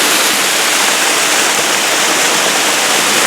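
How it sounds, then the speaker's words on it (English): Bear Creek Falls in the San Gabriel Mountains pours in a steady, loud, broadband roar of rushing water, heard up close and unbroken for the whole stretch with no voices over it. "The Bear Creek Falls."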